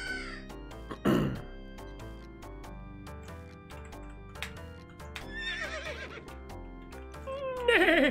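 Crows cawing in the Knight Shift video game, a few harsh calls rising over a plucked music backdrop, with a horse whinny early on.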